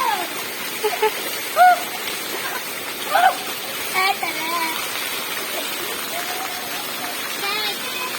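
Heavy, steady rain pours down in a village, a continuous broadband hiss of water hitting surfaces with brief splashes and someone talking over it.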